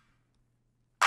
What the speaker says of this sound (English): But so those two claps together are going to sound like this.